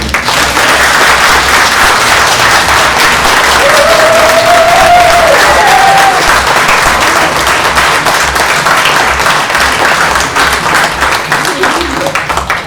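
A convention audience at POPCON 2021 in Toulouse applauds guests at a voice-actor talk, loud and sustained clapping from a large crowd, with a voice and scattered cheers rising briefly through the middle.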